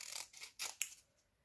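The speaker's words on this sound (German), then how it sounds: "Jetzt schneide ich die Legende noch ordentlich aus." Scissors snip through a paper legend for a diamond painting, several crisp close cuts in quick succession, quiet with no talking.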